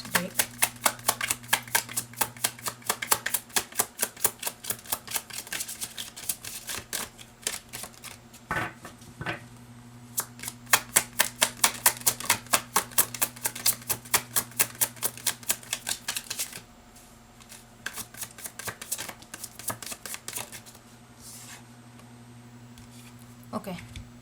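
A tarot card deck is riffled and shuffled repeatedly in fast bursts of crisp, snapping card flicks that come in long rhythmic runs with short pauses between them, close up and fairly loud.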